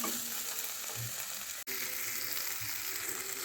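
Tomatoes frying with onion, ginger and garlic, a continuous close sizzle and hiss with a couple of faint stirring knocks and a brief cut in the middle.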